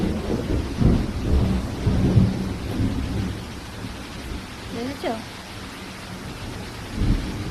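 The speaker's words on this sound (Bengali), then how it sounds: "দুপুরের পর থেকে শুরু হয়ে গেল ঝমঝমিয়ে বৃষ্টি" Heavy afternoon rain pours steadily with low rumbles of thunder during a power cut, a dense wash of noise with a brief spoken word partway through.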